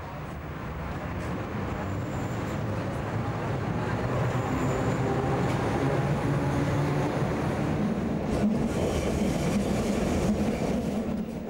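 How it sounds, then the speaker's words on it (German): A historic Berlin U-Bahn museum train of type A2 rolls along in passenger service, its steady rumbling wheel and motor noise loud and continuous, with rail clatter and a brief sharper screech toward the end. "Der Zug rollt im normalen Fahrgasteinsatz"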